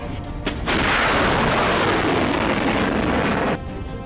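A heavy, sustained roaring blast of distant artillery fire during a military drill rumbles for about three seconds, broad and loud, then cuts back to a lower background hiss.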